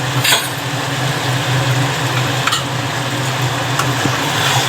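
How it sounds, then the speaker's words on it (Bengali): Mutton pieces are stirred by hand as they fry in oil for a mutton biryani, producing a continuous close sizzle with a low rumbling undertone and occasional faint scrapes. "মাংস আমাদের হয়ে এসছে প্রায়, তারপরে হালকা হালকা করে সুন্দর হাত দিয়ে একটু নেড়ে দাও।"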